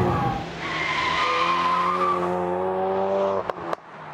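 A Ford Focus RS in drift mode slides sideways with a loud, sustained tire squeal over a roaring engine, fading out with a couple of sharp knocks at the end.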